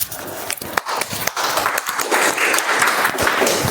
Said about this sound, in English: Let's give a better applause for our first time Sergeant Arms.